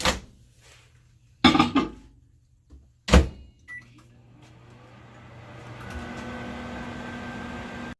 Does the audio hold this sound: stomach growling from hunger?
no